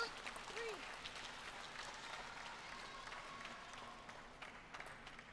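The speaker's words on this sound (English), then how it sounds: "Benedict Duda getting a cheer from the crowd as well." Crowd in the hall applauding a table tennis player at the ITTF Men's and Women's World Cup in Macao, 2024, moderate steady clapping heard somewhat distant, with faint speech in the background.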